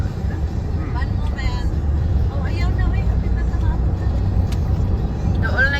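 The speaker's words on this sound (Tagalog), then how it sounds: "We are on New York State highway right now." Traffic on the New York State Thruway, a steady broad road roar of passing cars heard from inside a moving vehicle, with a few faint high squeaks over the rumble.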